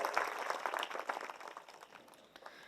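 Quiet applause from a kirtan audience in Maharashtra for a bhajan singer, a scattered patter of clapping heard at a distance that gradually thins and fades out.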